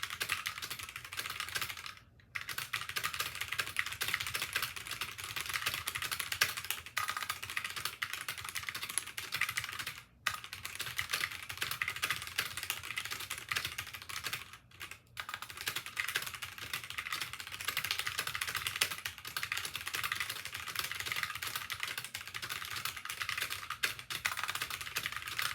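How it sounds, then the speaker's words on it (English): Touch typing on a computer keyboard, a steady fast stream of close key clicks running almost without pause, with only a few brief gaps. "this site actually has full-on lessons. It'll go through basically touching the same keys over and over again to build muscle memory."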